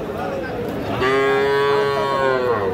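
A cross-breed bull calf moos loudly and close by in one long, drawn-out call, over a busy cattle-market background with faint voices.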